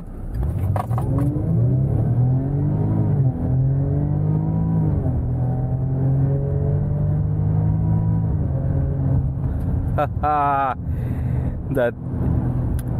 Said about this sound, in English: that supercharged 3-liter V6, man, it makes a nice sound